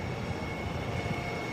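A Lockheed T-33 jet trainer at an air show gives a steady, continuous engine roar with a broad, even rumble and no break, fairly loud throughout.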